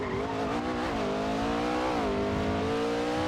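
A loud car engine in the GTA video game, held at high revs with a steady droning tone that rises and dips slightly, heard alone and continuous throughout.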